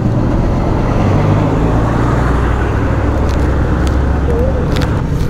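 Heavy road traffic on a provincial highway in Moncada, Tarlac, with a constant loud roar of cars, trucks and buses close by, engines and tyres blending into a steady wash, heard on a long motorbike ride from Cavite to Baguio.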